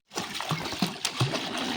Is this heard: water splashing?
yes